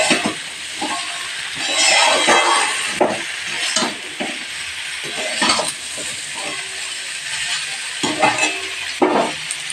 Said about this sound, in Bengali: সবজিগুলোকে আমি ভেজে নিচ্ছি